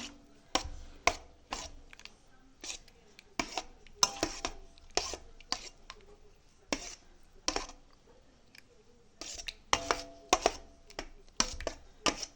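Cherries being stirred in a bowl for a cheese and cherry jelly dessert, a string of sharp clinks and taps of a utensil against the bowl in irregular bursts, close by and otherwise quiet.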